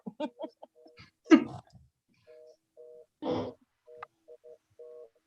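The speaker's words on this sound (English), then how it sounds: "That is my phone. I took it off the hook." A phone left off the hook during a public meeting emits repeated short electronic beeps in a regular pattern, with a cough and a brief voice breaking in early on.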